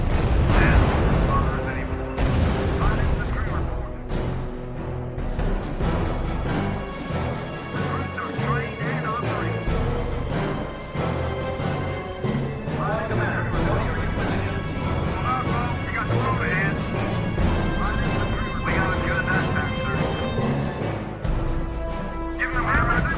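Units under sustained fire in the strategy game R.U.S.E., dense continuous gunfire and explosions layered with battle noise and radio-style voice reports over the whole stretch.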